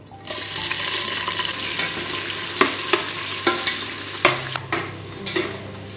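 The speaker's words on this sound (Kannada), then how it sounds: "ಈರುಳ್ಳಿ ಫ್ರೈ ಆಗಿದೆ." Onions fry in a pan of hot oil with cinnamon, cloves and cardamom for biryani, a dense steady sizzle starting abruptly, with several sharp spoon clacks from stirring and no talking.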